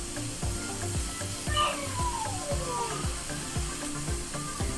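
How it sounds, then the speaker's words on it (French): Chopped onions sweating gently in olive oil over low heat, a soft continuous sizzle broken by regular scraping stirs, close and steady, with a brief whistling tone partway through. "je vais laisser en fait à feu doux jusqu'à que les oignons suent bien correctement"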